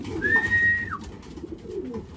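Pigeons coo in a breeding loft, low murmuring coos running under a brief whistled note, close and steady with no talk.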